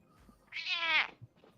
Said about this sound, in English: Sorry, y'all have to excuse my cat.